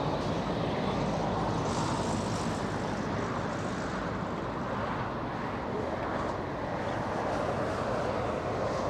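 A Boeing 737 touching down on runway 25 left at LAX gives a steady, loud broadband jet roar that holds level throughout, with no voices.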